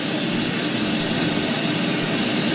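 An airliner's engines roar steadily while the plane taxis away from the terminal, a loud, constant broadband rumble heard from inside the cabin with no talk.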